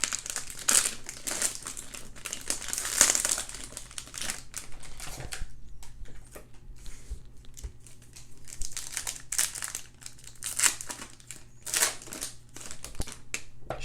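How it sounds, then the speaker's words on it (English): Two Bowman cello packs of baseball cards are torn open up close, giving bursts of crisp crinkling and crackling plastic with brief quieter gaps between them. "we'll go ahead and rip into these 2 Bowman cello packs"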